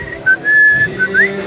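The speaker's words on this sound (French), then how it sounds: "je vous le fais pas en entier parce que je siffle faux" A person whistles a short phrase of a tune, with a few sustained notes and a quick upward slide at the end, close and loud, no talking over it.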